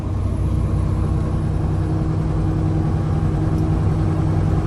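A custom Peterbilt dump truck's engine drones at a steady, loud, low rumble throughout, with no clear break marking a gear change.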